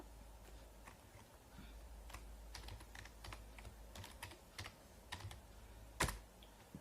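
Quiet computer keyboard typing as a joint name is entered in a robotics simulator, a scattered run of light key clicks with uneven rhythm, ending in a sharper keystroke like a press of Enter, over a low steady hum.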